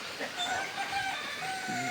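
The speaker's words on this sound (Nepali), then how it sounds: "कुखुराहरू छन् एकदम" Village chickens cluck softly and intermittently at a moderate distance, with faint background ambience and scattered bird calls in an outdoor rural yard.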